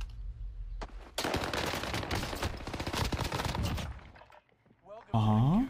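Rapid automatic fire from a Tommy gun submachine gun in a video game, a dense burst of loud shots lasting several seconds, followed by a short lull and then a voice.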